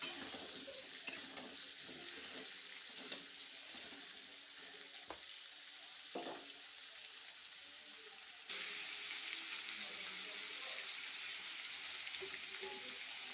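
Tomato, ginger and sugar frying in a pan give a quiet, steady sizzle with a few faint stirring knocks, close but low in level, and the hiss grows slightly louder toward the end.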